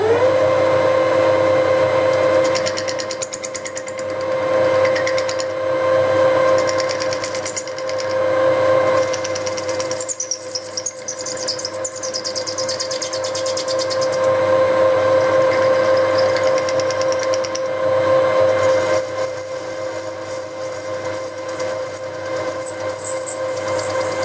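High-speed steel lathe tool cutting PVC, a steady machine hum with a strong sustained whine and shifting high squeals as the cut goes on, loud and continuous.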